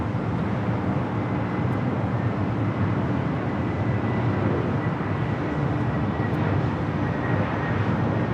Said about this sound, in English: Delta Airlines Flight 500 coming in from Atlanta on the A321.